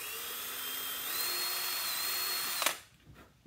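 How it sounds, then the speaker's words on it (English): A power drill pre-drilling a synthetic hockey boot sole whines steadily at high speed, pitch rising slightly partway through, then cuts off abruptly, leaving a quiet pause. "Synthetics, I always like to pre-drill all the way."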